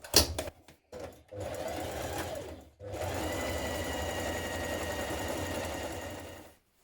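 A sewing machine stitches the central seam of a pair of leggings, running in two steady, even bursts close by with a short pause between them.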